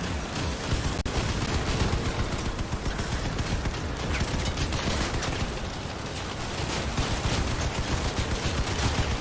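Rapid, continuous shotgun fire in the vehicle combat game Crossout, dense and loud bursts running steadily throughout with little pause, over a rumbling battle background.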